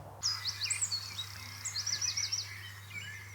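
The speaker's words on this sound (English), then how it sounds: "Like we've got this bird sample as well." A sample of chirping garden birds used in a song: bright, repeated trilling chirps and short whistled phrases, clear and fairly close over a steady low hum.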